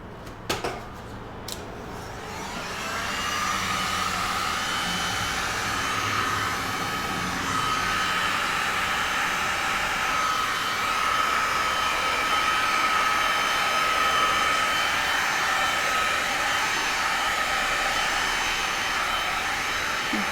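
A heat gun blows over freshly poured resin on a large canvas, giving a loud, steady airy whoosh that runs nearly twenty seconds after a few brief clicks at the start.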